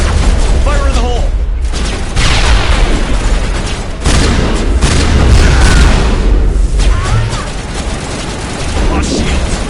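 Grenade explosion in Mass Effect, a loud booming blast amid dense, continuous combat noise with heavy low rumble and scattered crackling bursts throughout.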